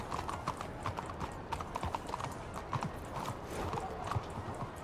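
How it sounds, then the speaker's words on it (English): Horse hooves clip-clop steadily at close range with an occasional excited neigh in a Saint Denis swamp setting in a Red Dead-style roleplay game, the steps forming a busy rhythm over background ambience. "that horse is excited and ready to go"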